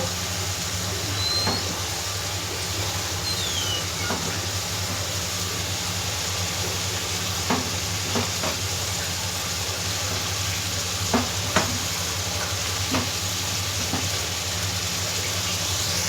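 Ivy gourd and peas fry in a pan with a steady sizzle, broken by a few sharp crackles and stirring clicks that stay close and moderately loud, with no talking.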